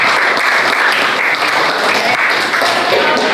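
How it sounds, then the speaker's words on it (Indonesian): Steady, loud applause from a classroom of students, clapping for a presenting student group during a teacher-training lesson; the dense clapping fills the whole moment without a break. "Tepuk tangan dulu untuk kelompok Dewa."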